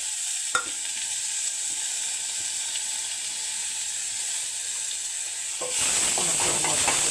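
Radish sautéing with curry leaves and dry chillies in a pan, a continuous hissing fry with a clack at the start and a louder burst of sizzling and stirring toward the end, no voices.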